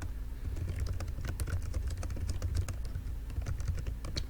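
Rapid keystrokes clatter on a computer keyboard in uneven bursts, close and fairly quiet, with no voices.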